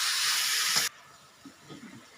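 Spinach (palak) sizzles in a hot pan while cooking aloo palak, a loud steady hiss that cuts off abruptly, leaving faint quiet clatter afterward.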